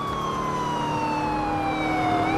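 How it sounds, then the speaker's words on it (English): A video game police car siren wails, sweeping steadily downward in pitch over a constant engine-like hum, loud and continuous throughout. "You can turn your sirens on and off"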